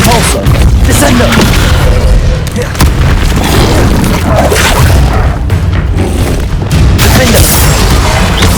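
Spell-casting combat in Hogwarts Legacy, with loud booming blasts and crackling bursts firing in rapid succession throughout, dense and continuous, with voices calling out amid the clamor.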